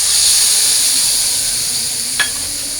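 Potatoes frying in a pan hiss steadily as ginger, green chili paste, turmeric, coriander powder and dried chili powder are added, giving a loud continuous sizzle with one small clink late on.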